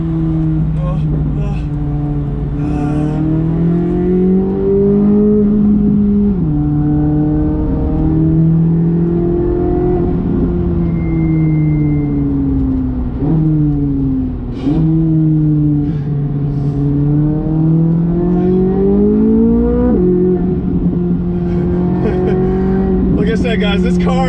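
A Chevrolet C8 Corvette Z06 engine revs and shifts gears continuously at close range, pitch climbing and dropping as it accelerates hard around a race track, reaching about 138 mph.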